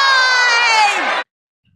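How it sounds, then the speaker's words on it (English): A rally crowd answers a question with one loud, sustained shout in unison lasting about a second, then cuts off abruptly into silence. "let me ask the crowd, what did Trump do?"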